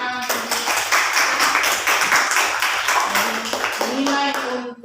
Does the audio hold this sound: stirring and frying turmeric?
no